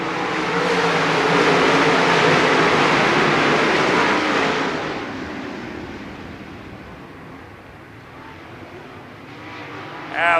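Dirt race cars at Lernerville Speedway's opening night roar to full throttle on the green flag, a loud dense engine wall for several seconds that fades as the pack moves away.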